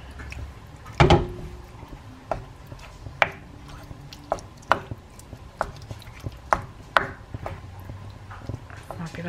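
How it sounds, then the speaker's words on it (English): Chicken thighs being mixed into Thai green curry in a pan, a series of irregular wet squelches and sharp knocks from a spoon against the pan, close up over quiet background noise. "let me just mix all that in."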